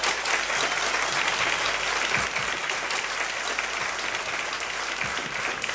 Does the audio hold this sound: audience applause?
yes